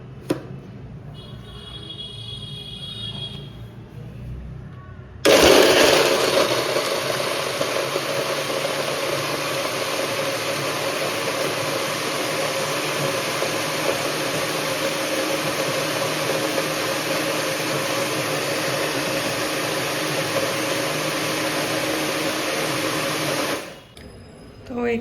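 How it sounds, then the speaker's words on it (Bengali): An electric mixer-grinder blends a banana smoothie in a home kitchen, switching on abruptly into a loud, steady whirring drone that holds for about eighteen seconds before cutting off, with quieter kitchen sounds and faint talk before it starts. "মিক্সিটা এখানে রেডি করে নিয়েছি, দিয়ে এবার এটাকে একটু ঘুরিয়ে নেব।"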